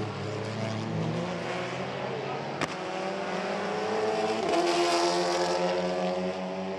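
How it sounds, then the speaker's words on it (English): European touring race cars at a 2017 race in Italy accelerate hard, engines rising in pitch through gear changes, with a loud, close drone, a sharp click near the middle and a swelling engine note toward the end. "You heard Nagy actually hanging on to third gear just a little longer than Stefanovski"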